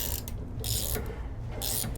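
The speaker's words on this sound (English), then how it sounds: "So we're just removing these 4 bolts out of the face of this agitator." Quick bursts of ratchet clicking, close and fairly quiet, come in short runs with pauses as bolts are removed from the face of a washing machine agitator.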